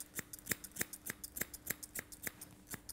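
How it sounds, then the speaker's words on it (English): Grooming scissors snip steadily through the side of a Labradoodle's beard, a regular run of about eleven crisp, close metallic clicks with no talking. "Just trim the side of her beard"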